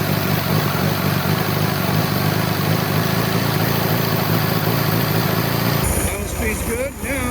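A 1967 VW Beetle air-cooled engine, freshly tuned with its idle speed raised, idles loudly and steadily nearby with a continuous throbbing chug that shifts in tone near the end.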